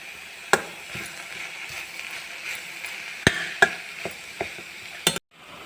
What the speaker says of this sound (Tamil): நல்லா கலந்து விடும்.